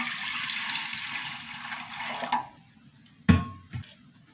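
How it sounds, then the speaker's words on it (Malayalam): Water pours in a steady stream for about two seconds into a pot of lentils, then stops, followed by a couple of sharp metallic clunks. "വെള്ളം ഒഴിച്ച് കൊടുക്കാം"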